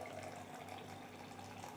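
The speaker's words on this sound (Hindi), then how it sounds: "हम इसमें बॉइलिंग वाटर डालेंगे, 1 कप भरकर उबलता हुआ पानी 250 ml।" Boiling water pours into a container of strawberry jelly mix, a faint, steady stream of liquid splashing for a couple of seconds with no talk.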